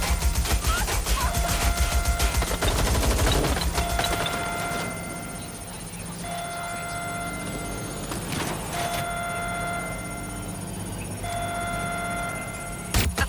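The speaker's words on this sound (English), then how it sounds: "They're shooting!" Rapid bursts of gunfire from people shooting crackle loud and dense through the opening seconds, then thin into scattered shots over a steady ringing background tone.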